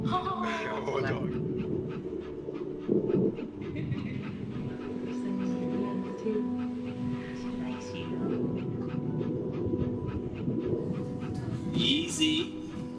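A puppy in the game That Dragon, Cancer pants and whimpers with occasional yips, close and fairly steady, mixed with game ambience while people talk over it.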